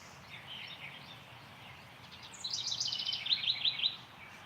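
Faint birdsong outdoors, a steady high twittering with a few brighter rapid chirps coming in toward the end, over a soft ambient hiss.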